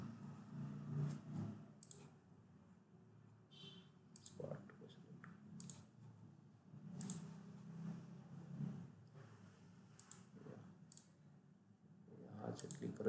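Computer mouse clicks in SolidWorks CAD software, a few small sharp clicks scattered through the stretch, faint under a low steady room hum with no talking.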